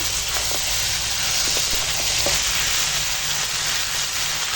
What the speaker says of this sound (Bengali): কাঠের জালে এখন মাংস কষাচ্ছি